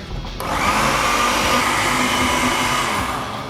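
A loud blender whirs continuously after a brief start, a steady close motor roar with grinding texture that eases slightly toward the end.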